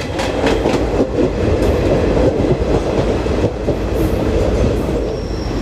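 The Garib Rath Express rolls through Dadar station in Mumbai with a loud, continuous rumble, rhythmic wheel clatter and occasional squeals from the rails, heard up close with no speech.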